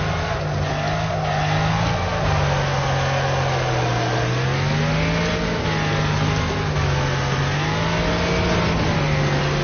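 A race car in the video game Wreckfest revs hard and steadily, its engine pitch climbing and dropping as it shifts up through the gears. It drones loud and close throughout, with no talking.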